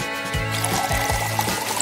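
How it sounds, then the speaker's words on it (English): Water pouring into a French press to brew coffee in a kitchen, a continuous splashing stream with a few gurgling surges, close and clear. "Then I brew it in French press."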